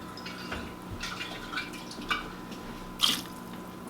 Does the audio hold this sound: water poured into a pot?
yes